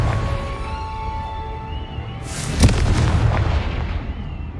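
Confringo, an explosive fire spell in the PlayStation 5 game Hogwarts Legacy, gives a sudden booming blast with a crackling burst that rises over a steady ambient game background, close and fairly loud.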